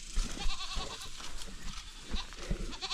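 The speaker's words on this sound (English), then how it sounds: "There's Max, our Judas goat." Goats on a farm, including a castrated wether, bleating in short calls amid rustling and shuffling livestock nearby.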